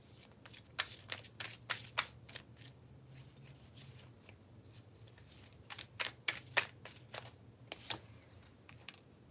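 Tarot cards shuffled by hand in a steady run of crisp riffling flicks and slaps, close and fairly quiet, with a brief lull in the middle before the shuffling picks up again.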